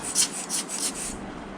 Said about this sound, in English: we just tilt up the stick and then we point our blower into it and we blow